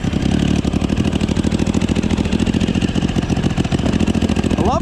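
A 1050cc engine swapped into a Yamaha Raptor quad runs loud and close, with a steady, fast-pulsing idle and no talk over it.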